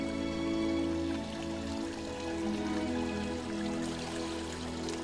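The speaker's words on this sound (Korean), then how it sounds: "청량한 물소리가 나는 곳을 따라가 보면" A forest stream flows through an island wetland, a steady, continuous wash of running water trickling over rocks, even and close throughout with no voices.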